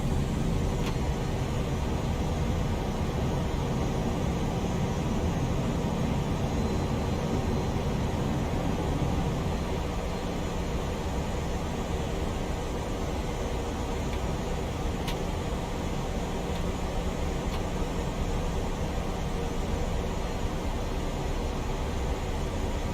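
Steady broadband cabin roar of a light aircraft in flight on a short final approach to Ellington Field near Houston after gear down, a constant low engine and airflow drone filling the whole stretch with no speech.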